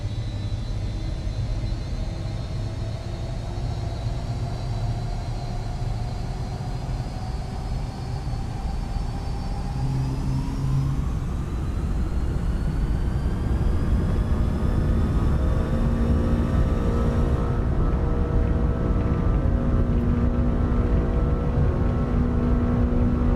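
Three engines of an L1011 Tri-Star airliner in a flight simulator spool up for takeoff, a steady roar whose whine climbs in pitch and settles into a loud, sustained rumble.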